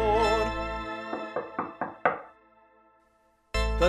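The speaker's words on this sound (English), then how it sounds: "Just give it a knock to find out for sure." Four sharp knocks on a kitchen door sound in an even rhythm, each one slightly louder, with a heavier fifth thud, set between bursts of bright music.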